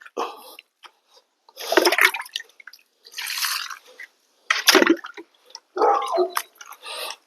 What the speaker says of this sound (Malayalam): ഈ ചാണകം നമ്മൾ ഇതെടുത്തിട്ട് ഇത് വെള്ളം ഇതിലേക്ക് ഒഴിക്കാം കുറച്ച് വെള്ളം മിക്സ് ചെയ്യാം